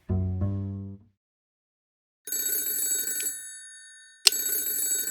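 A telephone bell rings in two loud bursts, separated by a short silence, following a brief low tone at the start, with no voices during the ringing.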